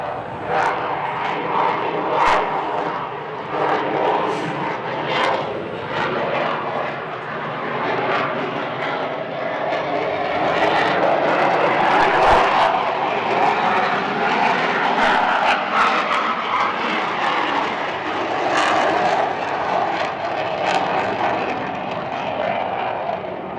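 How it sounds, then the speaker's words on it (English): A jet aircraft roars steadily overhead while flying an aerobatic loop, its broad engine noise swelling and holding loud for the whole stretch with no talk over it. "It's still flying, but it feels like it's out of control."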